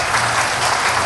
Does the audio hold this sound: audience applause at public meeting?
yes